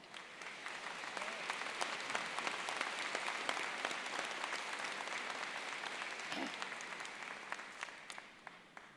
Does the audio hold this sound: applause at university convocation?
yes